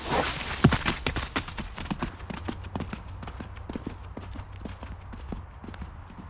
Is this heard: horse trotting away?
yes